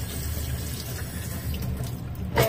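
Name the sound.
washing ampalaya bitter gourd under running water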